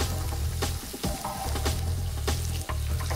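Mixed vegetables stir-frying in a hot pan, a steady sizzle broken by repeated scraping and tossing strokes of a spatula at an uneven rhythm, close and fairly loud with no talking.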